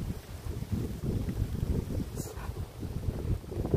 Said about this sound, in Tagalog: Kasi lakas ng hangin.